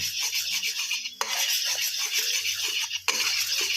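A utensil stirs melting sugar in a pan, producing repeated scraping and clinking strokes against the metal with a bright sizzling hiss underneath, close and fairly steady, broken by two brief pauses.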